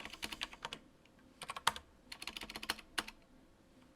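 Keys on a computer keyboard are tapped in quick irregular bursts with short pauses, close and fairly quiet, with no speech.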